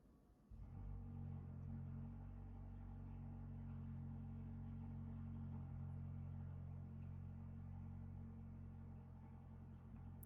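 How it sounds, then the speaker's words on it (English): A low, steady traffic rumble from loud cars passing outside, droning continuously and fairly evenly through the whole stretch, with no talking over it. "It's loud cars outside."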